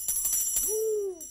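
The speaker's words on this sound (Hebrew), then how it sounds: "תקשיבו, יש פעמון עם צליל כזה," A small bell gives one clear, close ring with a sustained tone that fades, preceded by a few quick metallic taps.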